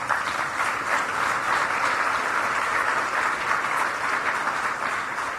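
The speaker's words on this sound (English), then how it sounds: "Give yourselves a round of applause." Sustained applause from a large crowd of military and veteran caregivers, steady and dense throughout with no pauses, filling the whole stretch.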